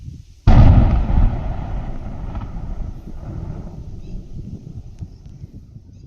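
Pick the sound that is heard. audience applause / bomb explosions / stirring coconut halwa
bomb explosions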